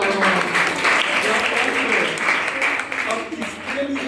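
Audience applause in a road safety club session, a dense burst of clapping from a group with voices talking over it.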